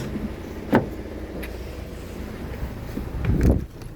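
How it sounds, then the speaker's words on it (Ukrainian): A used car's air conditioner runs with a steady blowing hiss inside the cabin, broken by a few brief thumps and a louder mechanical whir near the end. "Кондиціонер працює. Все класно."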